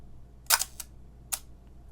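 A single-lens reflex camera shutter fires for a slow 1/8 second exposure: two quick close mechanical clicks a fraction of a second apart, then one more click a moment later, in a quiet room.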